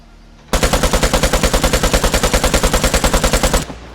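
Sustained full-auto burst from an AKM rifle in the video game Vigor, about thirty rapid evenly spaced loud shots in roughly three seconds, close and dominant, ending abruptly.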